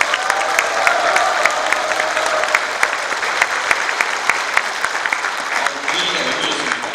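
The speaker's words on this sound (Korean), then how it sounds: "박수를 한번 부탁드립니다" Sustained applause from a party audience at a members' education lecture in Icheon, steady dense clapping throughout at full volume with no voices over it.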